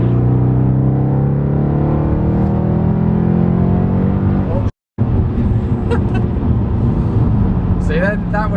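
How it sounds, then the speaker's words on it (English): A stage 2 Mercedes C63 pulls hard in third gear, its loud engine rising in pitch up to a sudden cut at the shift, then resuming with a rougher roar; brief voice toward the end. "let's give it another 3rd gear pull"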